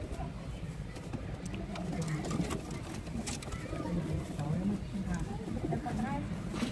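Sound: Khera pigeon cooing

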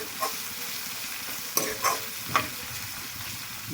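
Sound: ginger garlic paste frying in oil

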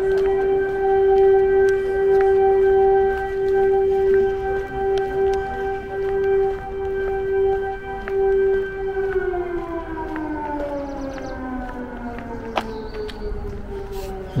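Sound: air raid siren sounding across a Ukrainian city

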